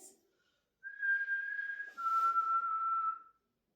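Two sustained whistled tones, the first slightly higher and the second lower, each held about a second, clear and close with silence around them, during a ghost hunt at Guys Cliffe House.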